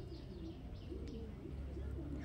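A Madrasi pigeon coos softly and steadily nearby in low rolling murmurs, with a faint chirp and light background noise and no voices.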